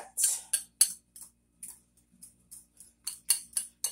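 Eggs whisked for a vegetable omelette, a run of quick, sharp clicking strokes against a bowl, close and crisp, with short pauses between bursts and no talking.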